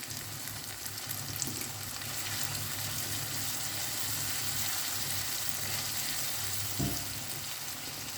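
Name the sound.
tomatoes sautéing in a pan for baby shark sambal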